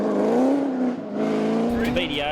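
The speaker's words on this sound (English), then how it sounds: "these cars are real entertainers on dirt, just with that throatier V8 roar" A Triumph TR8 rally car's V8 engine roars on a dirt stage at a classic rally in Otago, a loud, throaty, sustained note with a slight dip before climbing again, followed by a brief clattering rasp.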